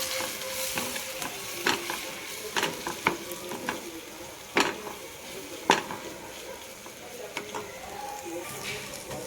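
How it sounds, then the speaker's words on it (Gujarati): Gram flour being stirred into cooked chillies in a pan, a soft sizzle under repeated scraping taps of a spoon against metal at an irregular pace. "બેસન એડ કર્યા પછી આપણે એને હલાવી દેવાના છે।"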